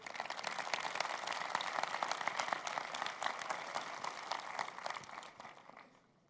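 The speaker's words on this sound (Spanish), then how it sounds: "un aplauso muy fuerte para ellos, por favor" A conference audience claps in a sustained burst of many hands, moderately loud and even, holding steady before fading out near the end, with no voices.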